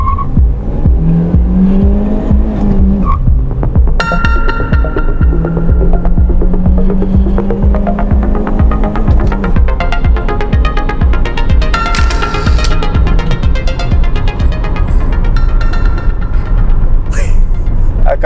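Citroen C3 1.5 8v launching hard from a standstill to 100 km/h, loud engine rising and falling through gear changes, with tyre squeal at the start and a voice talking over it.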